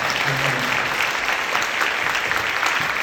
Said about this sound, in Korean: 우리 은혜 나는 중창단에게 우리 감사하며 박수 한번 해주십시오